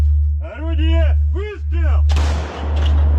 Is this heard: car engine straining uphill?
no